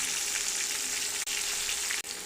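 Soft, raw mango pieces mixed with jaggery and sugar in a pan, stirred gently with a continuous wet sizzling hiss broken by two brief pauses.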